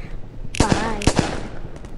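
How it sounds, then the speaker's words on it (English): Two sharp gunshots in a video game movie, fired about half a second apart and loud against a low background hum, with a brief voice-like tonal sound between them. "I'm gonna shoot you."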